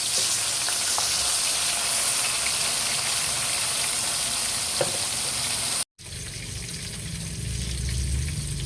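Bangus (milkfish) frying in a pan, a steady loud sizzle and crackle that runs unbroken, drops out for a moment, then returns with a lower, bubbling tone.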